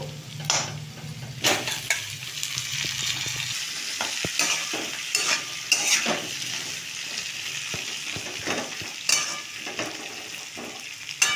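Potatoes and onions fry in a pan for aloo posto with a constant close sizzle, broken by scraping stirs and light clinks of a utensil against the pan.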